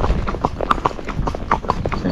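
Steady, rhythmic hoofbeats of a ridden Tennessee Walking Horse moving in gait over mixed terrain, a continuous clip-clop of four-beat footfalls heard close by.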